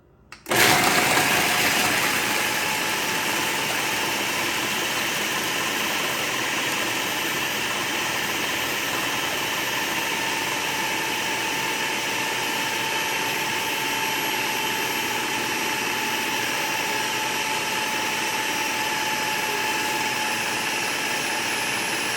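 A blender runs continuously at high speed, pureeing Oreo cookies for a bundt cake, starting abruptly and holding a loud, steady whirring drone throughout.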